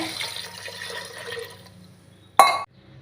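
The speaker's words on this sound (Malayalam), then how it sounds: "നമ്മൾ ഒരു ബൗൾ വെള്ളവും കൂടി ഒഴിക്കുന്നുണ്ട്" A bowl of water is poured into a pressure cooker: a soft gurgling pour fades, then a short, loud splash and clink of the bowl against the metal rim before it goes quiet.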